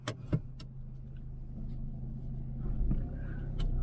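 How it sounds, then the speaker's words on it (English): A Ford EcoSport Titanium S diesel with manual gearbox pulls away gently in first gear, a steady low engine drone rising slightly in level, with a few light clicks and knocks from the cabin near the start. "So let's slowly launch the vehicle so that I'll be getting used to the vehicle a bit."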